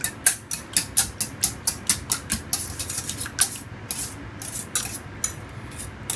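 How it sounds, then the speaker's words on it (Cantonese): Four eggs being beaten briskly with a utensil in a bowl for tamagoyaki, a rapid rhythmic series of close scraping taps, steady at first and then looser and more irregular. "將4隻雞蛋打散佢"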